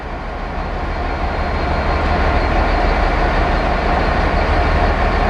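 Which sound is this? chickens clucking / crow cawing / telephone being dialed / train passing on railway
train passing on railway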